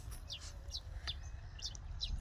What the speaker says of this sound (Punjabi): ਚੀਂ ਚੀਂ ਚਿੜੀ ਹੈ ਕੋਈ ਹੈ ਨਾ